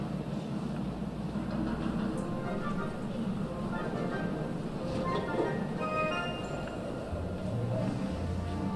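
Train travel in the point-and-click game The Raven: Legacy of a Master Thief: a steady rolling rumble of railway carriages fills the whole stretch, with occasional faint metallic clinks on top.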